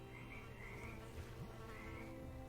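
Frogs croak in a steady chorus, mixed with insect-like buzzing and chirps, faint and continuous with no talking.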